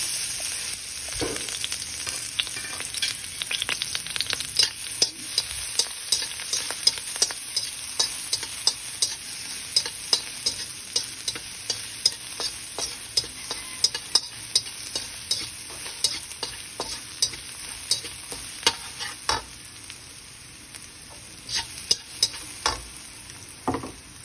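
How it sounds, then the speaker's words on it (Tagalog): Garlic sautéing in oil in a kawali, a steady broadband sizzle with repeated utensil scrapes and taps of stirring, close and fairly loud, with no talking. "Lagyan na natin yung oil, yung ating kawali. Magigisa tayo ng bawang."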